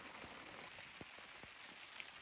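Rain falling steadily in a mountain forest during mushroom foraging, a soft continuous patter with a few sharper drops close by, faint and without voices.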